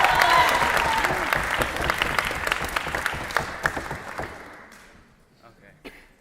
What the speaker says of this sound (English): we'll give you a round of applause and cheer you